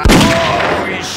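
A sharp burst of gunfire in the Western video game Grizzly Gulch, one loud crack at the start that rings out and decays under a steady noisy backdrop.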